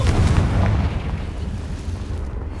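Explosive booms from the Confringo fire spell in Hogwarts Legacy, a loud, continuous low rumble of blasts that stays heavy throughout with no clear gaps between them.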